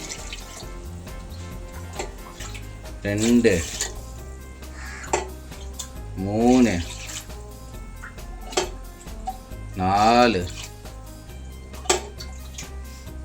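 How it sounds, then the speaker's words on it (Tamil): Five cups of water poured into a pot for prawn kabsa biryani in three separate splashy bursts with rising pitch as it fills, while a voice counts quietly between pours. "இப்போ அஞ்சு கப் தண்ணி ஊற்றணும்"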